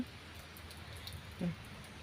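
Light rain falls steadily outdoors in a durian orchard, a soft, faint, even hiss with a brief louder patter near the end.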